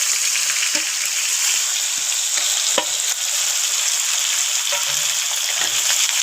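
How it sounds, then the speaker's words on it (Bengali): Fish seasoned with turmeric and salt frying in oil in a wok, a loud steady crackling sizzle with occasional clinks of stirring. "সেই মাছ ভাজা তেলের মধ্যে ওই হলুদ আর নুন রেখেছিলাম সেই মাছটা দিয়ে দেবো ভাজার জন্য"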